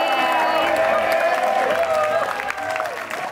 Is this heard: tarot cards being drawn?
no